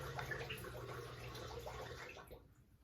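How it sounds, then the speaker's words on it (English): A kitchen dishwasher runs with water sloshing and hissing inside, a steady muffled wash heard faintly from nearby that cuts off toward the end. "Sorry if you hear water in the background, it's my dishwasher again."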